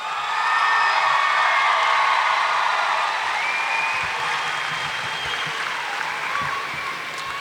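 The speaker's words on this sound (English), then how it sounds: "Give them another round of applause." Graduation ceremony audience applauding the class of 2014 at a high school, a dense sustained wash of clapping with scattered whoops and cheers from a large crowd, steady throughout and easing slightly toward the end.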